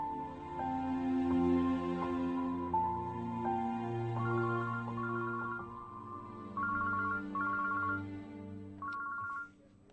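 A mobile phone plays a melodic ringtone that keeps repeating for the whole stretch without being answered, steady and moderately loud, with no talking over it.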